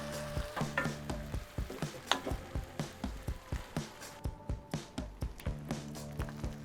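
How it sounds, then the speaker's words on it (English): Crab fat paste and coconut milk bubble and sizzle in a pan in a Pampanga kitchen in the Philippines, with a steady close simmer broken by regular rhythmic scraping strokes of a spoon against the pan. "Coconut milk goes in. Let that bubble away."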